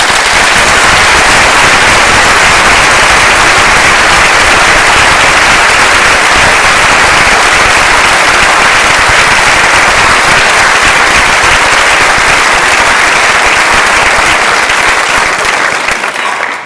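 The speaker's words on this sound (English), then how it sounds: "Let's give them a round of applause." Dense, loud applause from a large crowd at an interfaith vigil, a continuous wall of clapping that carries on steadily without a break and then cuts off abruptly at the end.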